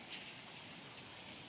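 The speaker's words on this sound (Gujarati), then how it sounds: "મિત્રો જોવા જે ફૂલ વરસાદ છે નરોડામાં, અમદાવાદમાં સવારથી પડી રહ્યો છે ધીરે ધીરે." Light rain falls steadily in Naroda, Ahmedabad, a faint, even hiss of drops with no voices and nothing else standing out.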